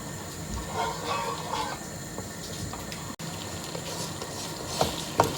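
Sesame chicken sauce bubbling and thickening in a pan over raised heat, a soft steady simmer and sizzle throughout with a couple of sharper pops near the end.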